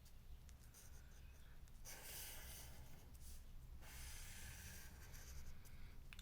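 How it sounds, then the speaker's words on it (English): Pencil drawing a tree branch on paper for a sloth illustration, soft scratchy strokes in two longer passes, quiet and close. "So what we can do, we can draw our branch coming along like that"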